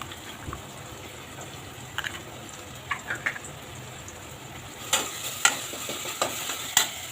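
Ginger garlic paste and asafoetida frying in a pan, giving a low steady sizzle with scattered stirring clicks and scrapes that grow louder and more frequent toward the end; no voices.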